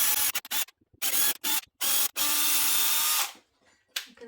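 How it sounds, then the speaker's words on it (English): A power drill whirs in several short bursts followed by one longer sustained run, close and loud, then stops with a faint click. "I'm just going to pre-drill a hole to make it easier."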